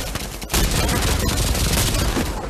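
An MG42 machine gun in the VR game Pavlov rips out a rapid, dense burst of automatic fire, loud and close, with a brief gap near the start before the sustained stream resumes.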